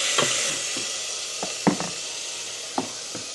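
Jarred garlic fries in a pan, giving a steady, close sizzle with a few light knocks and taps of utensils against the cookware while cooking a Filipino dish.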